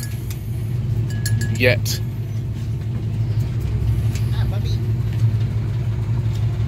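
A truck driving along, heard from riding in the back, with a steady low engine rumble and road drone throughout, a few faint clinks, and a person briefly speaking over it.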